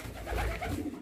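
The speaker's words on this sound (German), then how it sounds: "Ich bin im Taubenstall." Pigeons coo in a pigeon loft, a soft low rolling coo held for about a second, close and unaccompanied.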